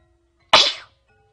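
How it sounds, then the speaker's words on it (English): A single sharp sneeze bursts out close and loud from a character in a quiet room, a quick breathy explosion that fades within about a third of a second, with faint background hum before and after. "I'm gonna sneeze"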